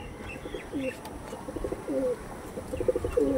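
Madras pigeons, one with reddish wings, coo in a repeated series of soft, throaty calls close by, set against a steady background hiss.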